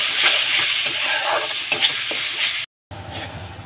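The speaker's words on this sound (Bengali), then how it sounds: "আর কিছুক্ষণ 2-3 মিনিট মতন আমি মশলাটাকে কষিয়ে নেব।" Spice paste with turmeric and chili powder is sautéed in oil for a bhola fish curry, a close, steady sizzle with repeated spatula scrapes and stirring knocks, cut by a brief silent gap before the frying resumes.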